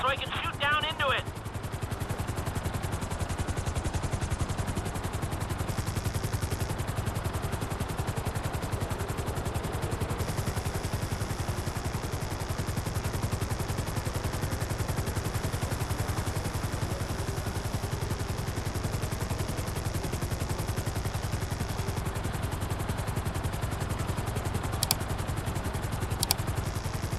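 A helicopter hovers in GTA 5 with a constant rotor drone and engine roar, while bursts of gunfire and clattering game effects break through and a voice talks over it.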